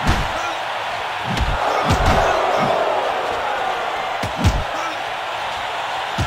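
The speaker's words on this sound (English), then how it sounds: "They're roaring for anticipation of a knockout." A boxing arena crowd roars steadily in Fight Night Round 3, a dense sustained cheer with sharp slamming punch impacts cutting through at intervals, while a commentator's voice runs over it.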